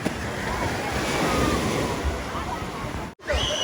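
Strong ocean waves breaking on a beach where people are swimming, a dense, continuous roar of surf mixed with wind buffeting the microphone, loud and close, with a brief dropout near the end.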